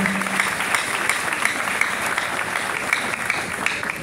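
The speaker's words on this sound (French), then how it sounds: "Nous, on peut applaudir parce qu'ils sont exceptionnels." Audience applause in a seminar or meeting hall, steady and dense clapping at moderate loudness from a sizable crowd, continuing evenly for the whole stretch without talk.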